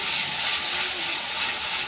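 A mixture tipped into hot tempering oil sets off a loud, steady, broadband sizzle and hiss that holds unbroken for the whole stretch, with no voices.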